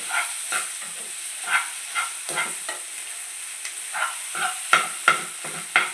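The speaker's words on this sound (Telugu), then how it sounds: "బాగా కలుపుకుందామండి" A pan of native chicken egg fry sizzles steadily while a utensil scrapes and stirs it in repeated strokes, the clatter close and rhythmic over a constant hiss, with no talking.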